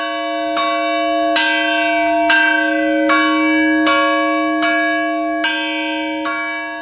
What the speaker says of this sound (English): they were actually retuning a church bell at the time